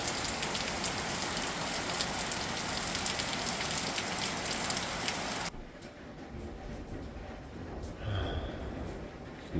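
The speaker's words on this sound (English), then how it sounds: "Never seen such crazy rain." Heavy desert rain pours in a steady, dense hiss of drops striking surfaces, loud and constant, with the sound changing partway through as if the mic moved under shelter, followed by a faint breath.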